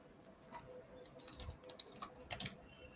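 Typing on a computer keyboard during a software tools tutorial, with soft, irregular key clicks scattered across a few seconds and a faint background hiss, no talking.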